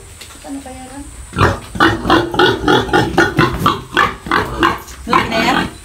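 A large pig being raised for roasting at a birthday gathering grunts and oinks repeatedly in rhythmic bursts, close and loud, with a person talking briefly at the start.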